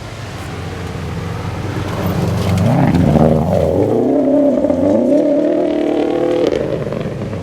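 A rally car on a stage of the 2012 STPR Rally approaches and roars past close by, its engine note rising then dropping as it moves away, with no one talking.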